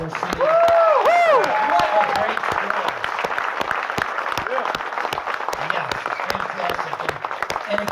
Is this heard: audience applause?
yes